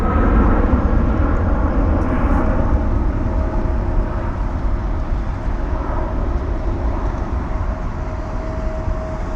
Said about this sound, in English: we've got a Boeing 777 Air Canada aircraft heading to Toronto.